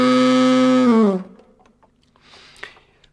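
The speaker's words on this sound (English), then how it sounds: "The saxophone growl then sounds a bit like this." A saxophone growl played as a loud, rough sustained note of about one second, sliding down at the end, followed by faint clicks and breathy noise.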